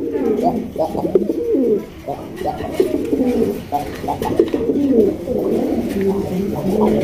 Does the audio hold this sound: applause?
no